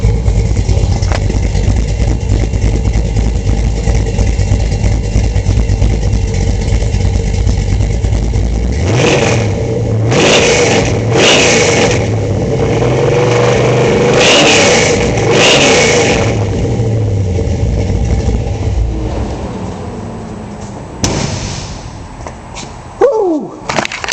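A restored 1971 Chevrolet C10 long bed with a 383 stroker V8 idles with a deep rumble, then revs up in several sharp bursts before settling back, loud and close throughout.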